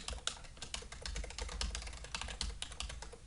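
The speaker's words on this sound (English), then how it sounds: "I can very quickly type them in here" Rapid, quiet typing on a computer keyboard as email addresses are entered, a dense patter of key clicks throughout with no speech.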